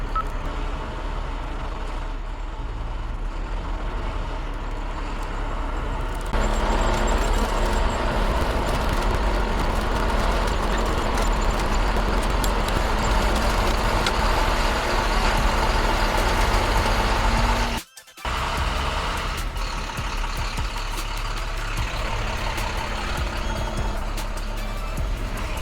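A 16-ton wrecker truck pulling a vehicle during a recovery, its engine droning steadily and then rising louder as the pull begins, with a brief sudden dropout before the heavy rumble resumes.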